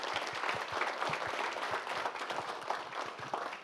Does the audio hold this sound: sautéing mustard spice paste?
no